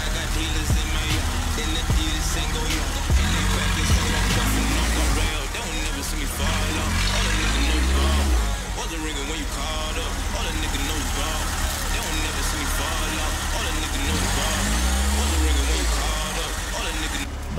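A UAZ off-road vehicle stuck in winter ground by a lake, engine droning and revving in sustained low surges as its wheels spin, loud and close, with people talking over it.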